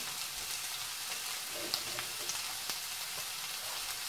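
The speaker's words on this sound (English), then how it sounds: "We're going to get the onions added to the olive oil." Onions sizzling in about a tablespoon of olive oil in a pan for garlic mashed potatoes, a steady close hiss with faint crackles and small pops, no talking.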